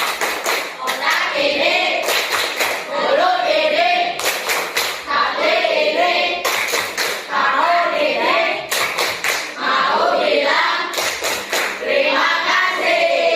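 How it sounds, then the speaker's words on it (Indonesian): A class of children in a classroom does a rhythmic thank-you clap, with sharp clapping bursts in repeated groups alternating with the children chanting together. "Ibu akan mengakhiri, namun sebelumnya tepuk terima kasih."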